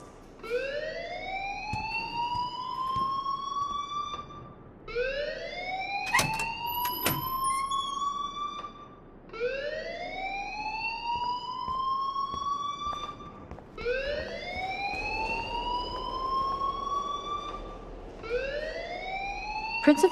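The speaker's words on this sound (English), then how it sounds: "please turn off that alarm since that's your job" A school alarm in Life Is Strange Remastered rising in long, repeated siren-like sweeps, each lasting several seconds, loud and continuous with brief gaps between cycles.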